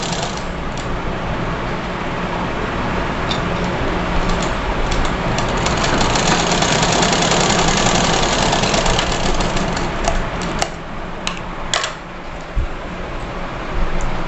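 Sewing machine stitching fabric for a girl's frock, a steady, close, continuous mechanical whir with a low hum, running without pause and with no talk.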